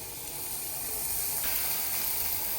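Chopped garlic and onion fry in a hot pan for cauliflower bhaji, giving a steady, even sizzling hiss close by that carries on without a break and without any voices.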